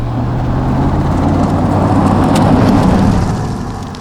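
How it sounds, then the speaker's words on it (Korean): An Audi RS 6 Avant drives hard along a winding road, its engine giving a loud, steady, deep drone that swells a little and then eases off near the end, heard from inside the car with no talking. "지금 와인딩을 달리고 있는데 남아도는 힘 때문에 제가 가속 페달을 가져갈 수가 없어요"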